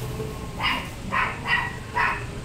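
A small dog barks four times in quick, evenly spaced yips somewhere in the background of a room, fairly faint against a low steady hum.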